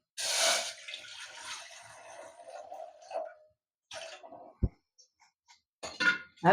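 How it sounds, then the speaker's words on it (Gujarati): Water pours in a steady splashing stream into a cooking pot on a gas stove for dal, for a few seconds, then stops, followed by a few scattered clinks and drips. "અને આ પાણી નાખશું આપણે હવે"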